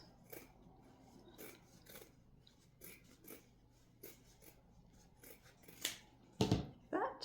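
Scissors snipping craft material for a Valentine gnome, a series of crisp, irregularly spaced cuts up close, growing louder and rougher toward the end, with no speech.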